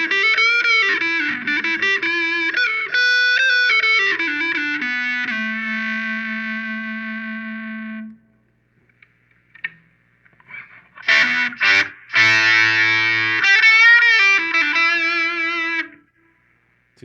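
Electric guitar through fuzz with the tone rolled back plays sustained, saturated notes and short melodic runs, falling silent midway before another loud burst of fuzzy phrases.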